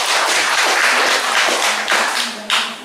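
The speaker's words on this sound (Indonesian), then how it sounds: "Tepuk tangan untuk itu." A crowd at a Legio Christi family gathering breaks into loud, close clapping that holds steady, then thins out and ends with a final burst of a few claps.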